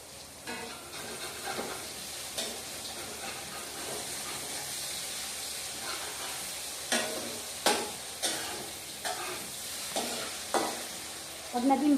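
Seafood sizzles and fries in a Filipino cooking pot, a steady, quiet crackling hiss broken by periodic scraping and clattering thumps as the contents are stirred.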